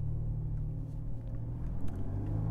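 A 2019 BMW M135i xDrive accelerating, its engine a steady, full low rumble heard from inside the car, building slightly with no speech.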